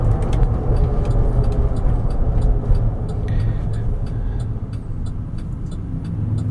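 A 2011 Chevrolet Tahoe LT 4x4 with a 5.3-liter V8 on the move, giving a steady, close engine and road rumble that holds even throughout, with no talking.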